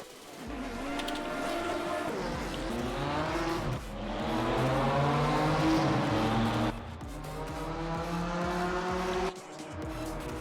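Race cars, including several BMWs and Porsche Caymans, roar past on the Nordschleife in a racing video game, with dense, continuous overlapping engine tones rising and falling as the pack passes, loud and steady throughout.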